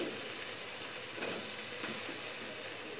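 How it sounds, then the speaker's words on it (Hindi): Fried potatoes being stirred into hot masala in a pan, a soft steady sizzle with faint scraping as they are mixed, fairly quiet and with no voices. "अब हम फ्राई आलू को मसाले में"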